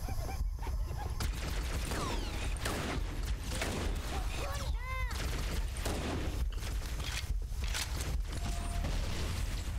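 Rapid gunfire in Halo: Anniversary pops in short bursts amid mechanical clanks and a whistling ricochet-like sweep, over a constant noisy background.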